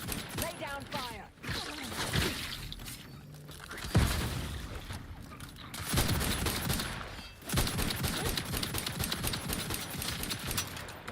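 Bursts of rapid gunfire in the video game The Outer Worlds 2 crackle in clusters over an energetic game soundtrack, with a game character's voice and a player talking over the shooting.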